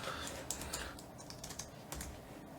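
Fingers type on a computer keyboard with a quick run of soft, close keystroke clicks and small irregular pauses, heard alone without talking.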